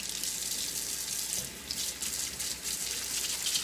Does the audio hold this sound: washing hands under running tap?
yes